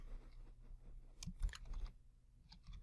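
Soft keyboard typing, a short burst of quiet clicky keystrokes in the middle, with a few more taps near the end over a low background hum.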